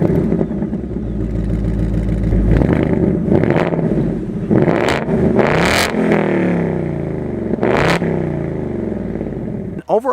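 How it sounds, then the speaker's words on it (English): A 2024 Ford Mustang Dark Horse revs through its active-valve performance quad exhaust with black tips. The engine idles loudly, then gives repeated sharp throttle blips that rise and fall, heard up close for about ten seconds. "you also have these active valve performance exhausts with the black exhaust tips, and boy does this thing sound good"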